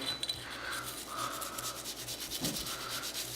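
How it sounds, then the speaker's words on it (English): A brush scrubs along the rails of a Glock 19 pistol with quick, repeated rubbing strokes, close and fairly quiet, with no talking. "you can take the brush and you can really get underneath those rails just like that"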